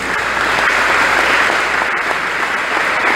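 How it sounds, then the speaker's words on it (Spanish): A standing congregation at a Neocatechumenal Way Advent proclamation in Guayaquil, Ecuador, breaks into loud, sustained applause, a dense even roar of clapping from many hands with no talk over it. "Démosle un aplauso, por favor."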